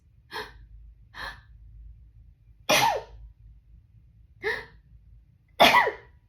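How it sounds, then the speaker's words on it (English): A few short breathy bursts, then two louder sharp sneeze-like explosions close to the mic, spaced a couple of seconds apart, with no talking. "I'm gonna sneeze"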